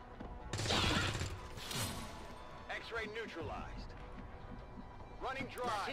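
Broadband bursts of gunfire in XCOM 2 crackle near the start and middle, with voices speaking over the busy game audio.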